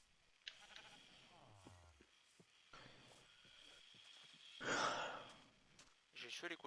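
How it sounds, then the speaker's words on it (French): Sheep bleating in the video game Minecraft, several short wavering bleats spread through the clip, sitting in and around a person talking in French. "Oh, on a deux moutons, attends."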